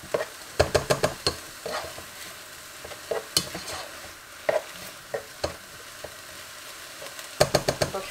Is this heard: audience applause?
no